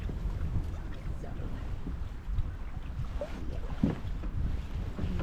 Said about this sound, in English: Okay, the wind, yeah, the wind is definitely up.